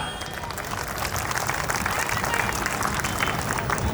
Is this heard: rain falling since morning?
no